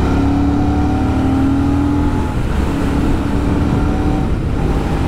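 Royal Enfield Super Meteor 650 motorcycle cruising steadily at 80 km/h in fifth gear, a constant engine drone blended with heavy wind rush, heard up close from the rider's position.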